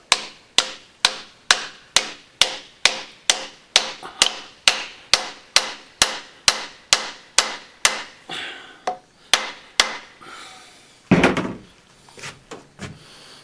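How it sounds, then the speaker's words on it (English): A hammer drives a pine-tarred wooden wedge into the kerf of an old Soviet axe head with about twenty sharp, evenly spaced knocks. A few heavier, scuffing blows and a pause follow. "pound it in a bit further with a heavy hammer"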